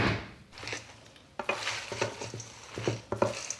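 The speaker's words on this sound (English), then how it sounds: "Now we mix." Cold pasta salad with mozzarella being tossed and stirred in a bowl, with soft wet squelches and clinks of a utensil against the dish, quiet at first and then a busier run of mixing.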